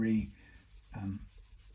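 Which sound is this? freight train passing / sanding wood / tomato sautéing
sanding wood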